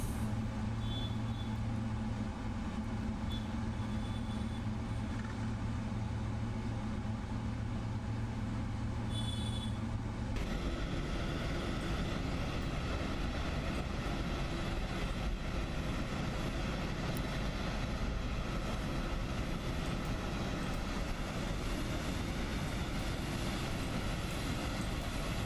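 In MSFS 2024, a PMDG 777 airliner taxis with a steady engine hum and whine, a constant close drone without speech. The tone shifts partway through as the engine note rises into broader noise.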